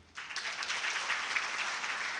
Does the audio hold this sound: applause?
yes